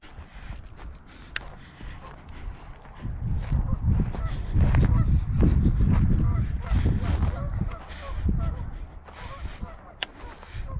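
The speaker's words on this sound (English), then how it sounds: "What's up, geese?" Geese honk in scattered, fairly faint calls at a lakeside fishing spot on a mild day, under low rumbling noise, with a few sharp clicks and some talking.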